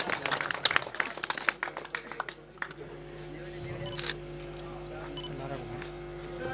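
Rapid bursts of camera shutter clicks at a thanksgiving gathering for an MLA in Bara village, Jodhpur, with scattered clapping mixed in during the first seconds, then a quieter steady room hum.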